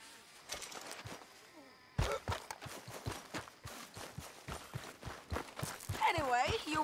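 Horse hooves in Red Dead Redemption 2: a regular clip-clop of hoofbeats moving at a walk, clear and fairly close, with a voice briefly audible over them.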